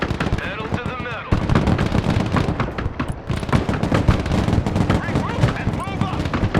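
Rapid gunfire, artillery and explosions of combat in the Broken Arrow video game, dense and continuous bursts of shots layered with radio-style voice chatter throughout.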